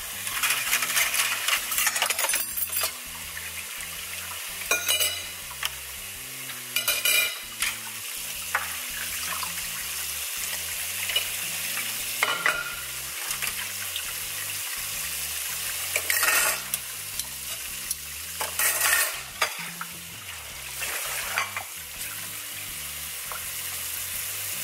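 A dishwasher in a home in the United States washing dishes with hot water: a rhythmic low churning hum with repeated splashes and clattering spray bursts, steady throughout and close by.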